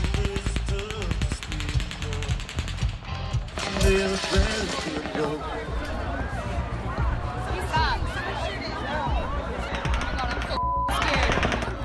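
Automatic gunfire at the open-air Las Vegas Route 91 Harvest Festival concert, rapid bursts of shots rattling over a dense wash of crowd noise and shouting voices, loud throughout.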